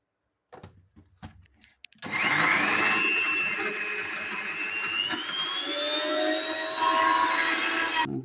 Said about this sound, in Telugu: నేను ఫస్ట్ ఇలా మిక్సీ పట్టుకుని వస్తాను చూడండి.